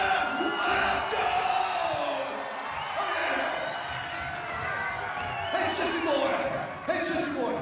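A wrestling crowd in Las Vegas yelling and jeering at a wrestler, a rowdy mass of shouts with a voice speaking over the noise and louder swells near the end.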